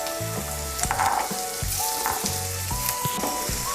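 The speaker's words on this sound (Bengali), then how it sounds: "এখন আমি এর মধ্যে দিয়ে দেব ক্যাপসিকাম কুচি। ক্যাপসিকাম কুচিটাকেও মিশিয়ে নেব।" Rice with chopped capsicum and peas sizzles steadily in a hot pan as it is stir-fried, with the scrape and clatter of stirring at intervals.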